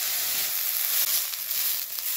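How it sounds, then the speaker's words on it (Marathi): Cluster beans (guar) roasting in oil in a pan give off a steady, close, loud sizzle with crackling hiss that carries on throughout. "तेल वतून थोडंसं भाजायची, चांगली डाग उठेपर्यंत भाजूया बघा गवारी"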